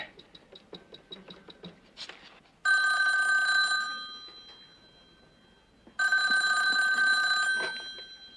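A telephone rings in a sitcom home setting: a run of quick ticking clicks comes first, then two long, loud electronic bell rings separated by a brief gap, with no talking.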